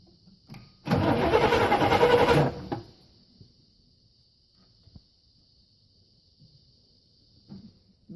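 A 1968 Chevy 396 big block engine cranking in one loud burst of about two seconds close up, then cutting off to near silence with a few faint knocks.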